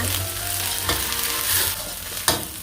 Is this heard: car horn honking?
no